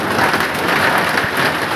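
Heavy rain pours steadily, with hail falling during a storm in Saraswati Nagar; the sound is a loud, dense, continuous hiss and patter close by, with no talking.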